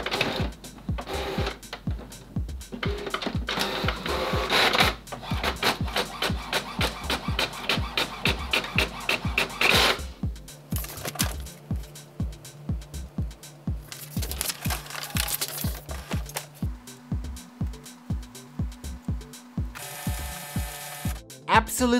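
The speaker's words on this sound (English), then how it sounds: "Alexa, ask my printer to print Art Therapy." An HP OfficeJet Pro 8023 all-in-one inkjet printer prints a coloring page, with rapid ratcheting clicks and gear whirs giving way to rhythmic carriage passes and motor hums, close and continuous.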